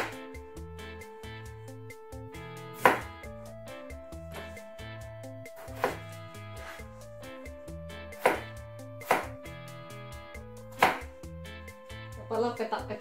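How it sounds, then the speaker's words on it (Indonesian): Peeled potatoes are diced into small cubes on a board, with a series of firm knife chops at irregular intervals, each a sharp close thump, alone without speech. "Ini kentangnya dikupas, lalu dipotong petak-petak."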